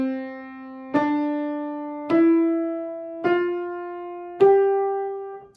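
A piano plays five single notes that step gradually upward, each struck roughly a second apart and left ringing into the next, close, clean and alone.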